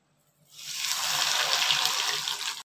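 A piece of burger stuffing dropped into hot oil starts frying, a sudden, steady, close sizzling hiss that lasts about two seconds and then cuts off.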